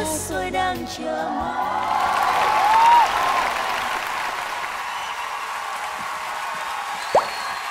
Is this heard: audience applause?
yes